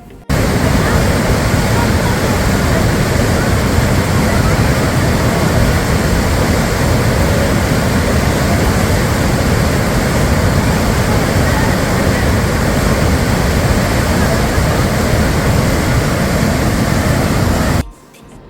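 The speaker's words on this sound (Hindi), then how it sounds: "और अब आप सुनेंगे नदी की आवाज़।" Fast-flowing river rushing beside the Natural Bridge in Banff, Alberta, a loud, steady broadband roar of churning water that holds unbroken from start to finish and then cuts off.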